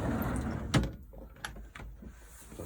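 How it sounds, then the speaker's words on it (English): A cutlery drawer in a 2014 Sterling Eccles Sport 442 caravan slides open and shut, a quick wooden sliding rumble followed by a soft thud and a couple of lighter knocks, close by and without talk. "Drawer space, cutlery drawer in there."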